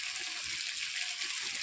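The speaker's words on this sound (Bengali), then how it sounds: "আমি অল্প জল দিয়ে দিচ্ছি।" Water poured into a pan of rohu fish curry with potatoes and drumsticks, a steady broad rushing splash close by with no talk.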